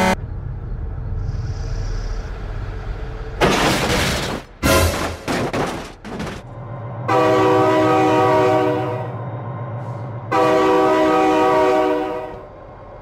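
In the BeamNG Drive driving game, a train's horn sounds in two long, steady blasts, preceded by a cluster of sharp crashing impacts, with a low rumbling engine drone running beneath.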